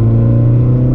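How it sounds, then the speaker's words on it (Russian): A Lada Granta sleeper tuned to about 200 horsepower roars under hard acceleration on summer tyres in winter, a loud, deep engine drone filling the cabin, steady and close with no talking. "мотор ревет, мотор идет"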